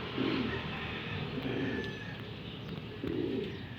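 Homing pigeons coo softly in a low repeated rhythm over a steady background hiss of outdoor noise.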